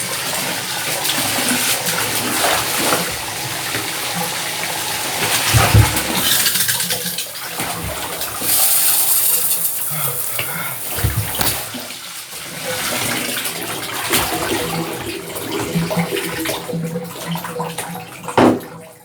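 Cold shower water runs and splashes continuously for a long stretch, gushing and shifting as the flow is interrupted, with a few sharp louder bursts.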